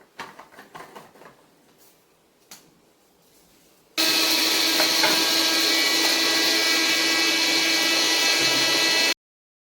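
A mixer grinder jar powders dried hair-growth ingredients, starting with a few faint rattles and knocks before the motor kicks in with a loud, steady whirring roar that runs unbroken for about five seconds, then cuts off.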